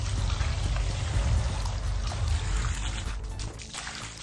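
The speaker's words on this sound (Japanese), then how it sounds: "水を入れたします。" Water poured onto a newly planted peony in a garden: a steady, close splashing pour that continues for several seconds and then thins out toward the end.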